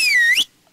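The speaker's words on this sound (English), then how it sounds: "if you miss Z and hit X, you whistle" A single high, clear whistle from a hunter character in The Hunter: Call of the Wild, sliding down then rising sharply before cutting off, close and alone with no talk.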